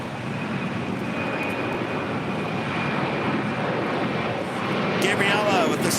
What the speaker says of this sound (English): Next departure is Hawaiian Airlines Flight 33 heading to Kahului.